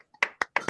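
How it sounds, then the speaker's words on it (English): Quick sharp hand claps from a podcast audience, four close crisp slaps in a short uneven burst with no talking over them. "Clap it up."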